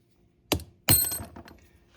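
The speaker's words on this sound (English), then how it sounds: "kept hitting it until the bearing comes out" Two sharp metallic strikes on a 1/4 inch extension driving a bearing out of a Badboy mower spindle, the second ringing out longer, close and loud with no talking.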